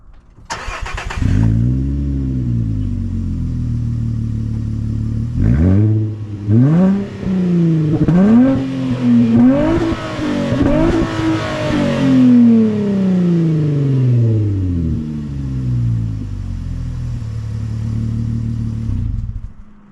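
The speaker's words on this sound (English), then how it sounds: "That's the exhaust." A deep, loud aftermarket MBRP exhaust note on a 2024 Nissan Frontier Pro-4X pickup, revved hard several times in quick rising and falling surges, then dropping back to a rumbling idle.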